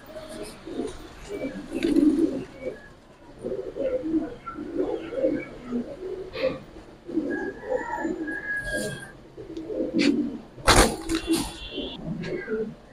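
Pigeons coo repeatedly at a pigeon sale featuring Giribaz, Silver Pankhi and Army breeds, the low murmuring calls steady and close throughout, with people talking over them and a sharp bump near the end.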